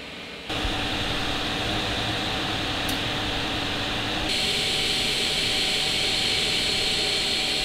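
A Creality CR-M4 3D printer's cooling fan spins up with a sudden step to a steady, loud, close whooshing hum with a faint tonal whine, then grows brighter and louder again midway and holds constant.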